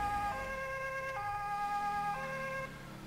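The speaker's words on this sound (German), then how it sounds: "Deswegen mache ich mal kurz die Sirene aus." A loud electronic police siren from a Ford Ranger in the video game GTA 5 wails in steady, stacked tones, then cuts off near the end, leaving a low engine rumble.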